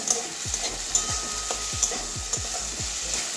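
Eggplant frying slowly over low heat in a pan, a continuous close sizzle with a regular series of soft scraping stirs, no voices.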